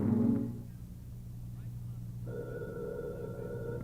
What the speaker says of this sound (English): I think that phone's for you.